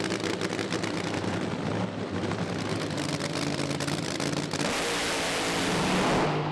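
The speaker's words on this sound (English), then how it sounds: "it's a solo run for Jason in the Gladiator car" A Gladiator funny car makes a drag racing run at Santa Pod Raceway, a loud roaring engine with rapid crackling pulses that swells into a sustained, broadband blast heard alone without talk.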